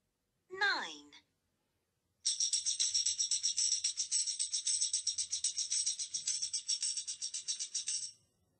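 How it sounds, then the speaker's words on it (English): A tambourine rattles in a steady, fast shaking pattern of jingles for several seconds after a brief sliding tone, bright and fairly close, with no talking. "Yes, it's the sound of tambourine."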